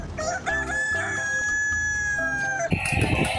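An electric dancing toy chicken plays a loud, synthetic rooster crow, a long drawn-out cock-a-doodle-doo with a few short clucks before it, ending in a clatter of toy noise.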